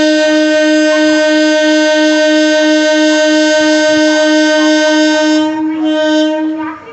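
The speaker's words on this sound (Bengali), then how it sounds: "এটা ভুবনেশ্বরের লোকাল ট্রেন, অনেকটা ছোট। ট্রেনটা যাক," A small Bhubaneswar local train sounds a loud, steady horn blast that holds for several seconds before fading.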